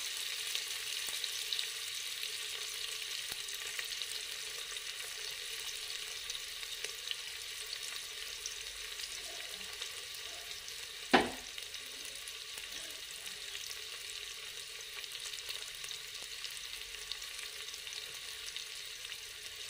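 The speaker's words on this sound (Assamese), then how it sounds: "পিঁয়াজখিনি অকণমান লেৰেলি যোৱালৈকে, অকণমান ব্ৰাউন কালাৰ নিচিনা হোৱাৰ পাছত মই এতিয়া চাউলখিনি দিম" Onions and rice fry in a pan with a steady low sizzle throughout, close and quiet, with a single sharp clink of a utensil against the pan partway through.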